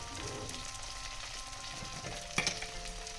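Chopped tomato with salt and turmeric frying among browned onions for a light Bengali parshe fish curry, a soft steady sizzle with a brief clatter near the end and no talk.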